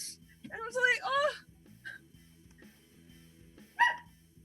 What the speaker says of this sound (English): So I have a puppy barking.